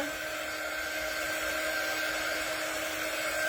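A hair dryer blows steadily and loudly at close range, drying a handmade Cupid angel craft piece, with an even whirring hum and no speech.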